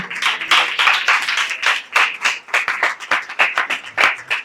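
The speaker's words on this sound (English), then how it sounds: "Let's have a big round of applause for Prabhu." An audience claps in loud, close applause that keeps up a dense, uneven patter for the whole stretch.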